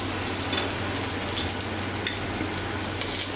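Potatoes sizzle and crackle steadily in hot oil in a pan while being fried for chicken dum biryani, a close, continuous frying sound with occasional stirring and no speech.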